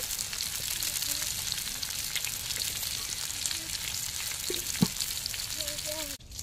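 Croaker fish frying in a pan over a medium flame, a steady broadband sizzle with faint voice-like tones around it and a brief clatter near the end.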